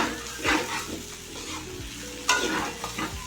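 Chili masala fries slowly in a pan for a masala cheese bhindi fry, as a spatula scrapes and stirs in a few distinct strokes over a steady close sizzle.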